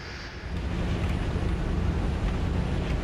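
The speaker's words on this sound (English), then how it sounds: "how can this thing still make jet sounds? How can a pony make jet sounds?" A pony aircraft in the War Thunder video game gives off a steady jet engine roar. The broad rushing drone holds fairly loud and even throughout, with no talk over it.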